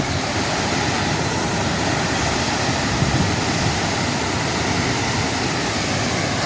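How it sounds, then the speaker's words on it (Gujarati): Water rushes out of an open gate at the Mokeshwar dam, a dense, unbroken roar that stays loud and even throughout, with no voices. "એક ગેટ ખુલ્લો છે પણ પાણી વધારે આવે"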